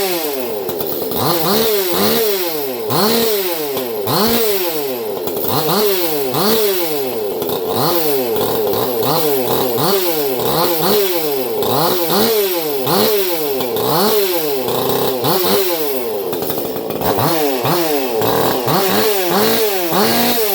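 A ported Echo CS-4310SX chainsaw with a rich carburetor tune runs loud and close, revving up and dropping back over and over in a regular rhythm with no talking.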